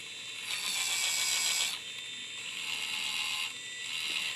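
A small mini pottery wheel spins nearby with a steady mechanical whir and hiss, swelling in two broad surges as the speed changes, with no talking.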